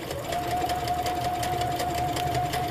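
A sewing machine stitches at an even pace, its fast regular needle clatter and steady motor whine close and alone throughout.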